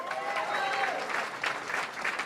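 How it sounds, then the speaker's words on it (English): An audience at a temple Diwali program bursts into brief, loud applause, a dense clapping crowd with cheering voices and faint talk mixed in. "Give them a round of applause."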